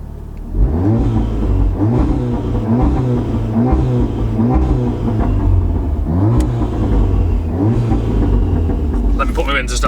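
A Volkswagen Golf R engine revved in neutral, with repeated rising and falling revs over a deep steady rumble, loud and close, and a person speaking over it.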